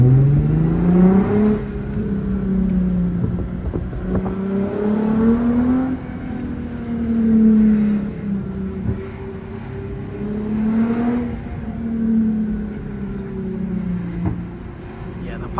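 A Lexus IS350 with straight-pipe exhaust revs and drops repeatedly in a steady rising-and-falling pattern, loud and close, with occasional sharp exhaust pops as it downshifts.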